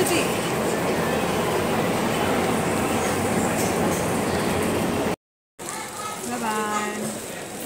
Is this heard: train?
yes